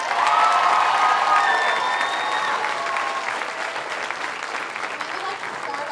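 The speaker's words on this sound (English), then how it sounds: "Can we give another round of applause for that fantastic production?" Opening-night audience applause after a youth production of Matilda The Musical Jr. in a theater, loud sustained clapping with some cheering and high voices, easing slightly over the stretch.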